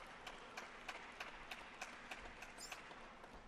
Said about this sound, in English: he's still clapping.